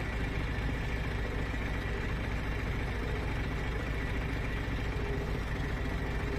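A tractor hauling a load of stones drones steadily at low pitch, a continuous, fairly faint engine rumble with no breaks or voices.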